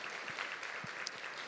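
A church congregation applauds during a Sunday afternoon praise service, a steady wash of moderate clapping with a few sharper individual claps.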